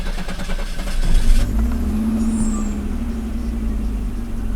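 An Audi 90 engine is shut off and restarted with the air conditioning running, a brief cranking surge giving way to a steady, close idle hum that holds on alone.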